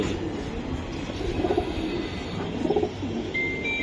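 Giribaz pigeons give two short, soft coos about a second apart over a low, steady background rumble, fairly close and quiet.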